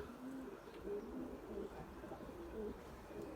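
Turtle doves coo softly in a garden, with several low, repeated cooing calls at moderate distance over steady background noise and faint chirps.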